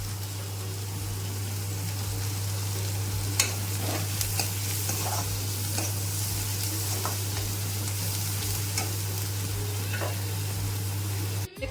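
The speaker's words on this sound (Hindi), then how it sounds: "प्याज हर अच्छा से भुजा जाही संगवारी हो, मस्त लाल के होत ले।" Onions frying and being stirred in a pan, a steady close sizzle with repeated spatula scrapes and clinks across the whole stretch, alone without talk.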